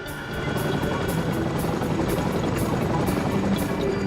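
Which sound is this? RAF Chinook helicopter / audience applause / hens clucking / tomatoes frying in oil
RAF Chinook helicopter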